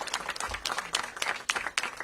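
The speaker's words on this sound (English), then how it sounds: "Give them all a round of applause for" A short burst of applause from a small crowd at a Chinatown event in Washington, DC, steady clapping lasting about two seconds, fairly close.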